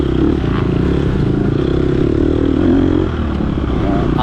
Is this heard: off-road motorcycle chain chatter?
yes